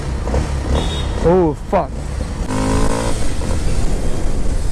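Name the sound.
Kawasaki KLX 230 motorcycle starting and revving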